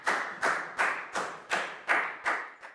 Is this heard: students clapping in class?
yes